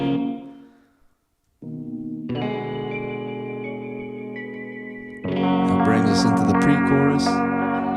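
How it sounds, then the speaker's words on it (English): A synthesized bell plays in a pop track production with chorus, echo, distortion and reverb effects, sounding as sustained, layered ringing tones that step up in brightness and fullness partway through, with no talking. "Here we've got this bell."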